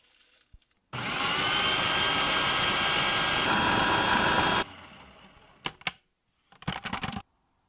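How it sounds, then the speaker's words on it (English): Oats pulsed in a blender into a coarse flour: one loud, steady motor whir of a few seconds stops abruptly, followed by several short pulses, all up close with no talking. "put the oats in the blender and pulse them until they almost turn into like an oat flour"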